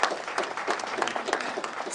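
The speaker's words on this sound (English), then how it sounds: "put our hands together and just give a clap" Clapping from an audience at a live K.C.P.E. results event, brisk and irregular from many hands, fairly loud and sustained with no talk on top.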